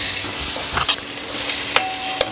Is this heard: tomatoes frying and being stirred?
yes